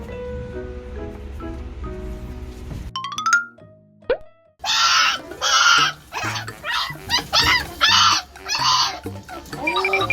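A Shiba Inu dog screaming in fear during anal gland expression, with repeated loud, shrill, honking shrieks in uneven bursts after a short quieter stretch, close and intense.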